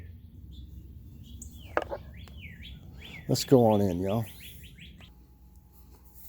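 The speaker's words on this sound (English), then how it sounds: "Well, the birds woke up, if nothing else." Morning birds chirp and tweet in short, clear calls outdoors, one brief burst standing out loudly near the middle, while someone speaks a few words over the quiet background.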